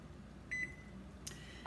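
A kitchen timer is set while peanut butter fudge cooks, giving one short, faint electronic beep followed by a quick click against a quiet kitchen background.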